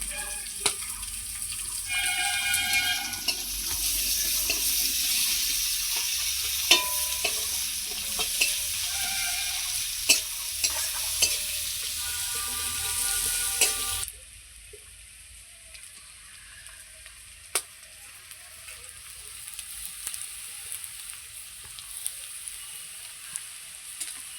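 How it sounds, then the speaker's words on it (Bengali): Chopped large onion and two bay leaves frying in hot oil, a steady loud sizzle with occasional stirring clinks, then dropping to a quieter, softer sizzle partway through. "এইবার ফোড়নে দিয়ে দিচ্ছি দুটো তেজপাতা, একটা বড় সাইজের পেঁয়াজ কুচানো"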